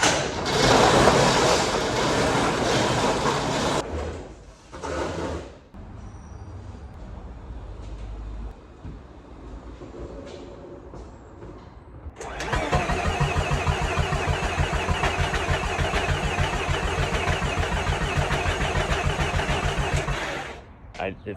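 Mazda RX-7 FC rotary engine cranking as it tries to start after an oil change, with loud bursts of starter grinding, a quieter stretch with talking, then a long steady cranking spell near the microphone.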